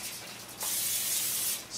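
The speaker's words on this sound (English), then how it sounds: "We're gonna use non-fat cooking spray." Non-fat cooking spray hisses from the can onto a hot skillet in a short burst lasting about a second, close and alone.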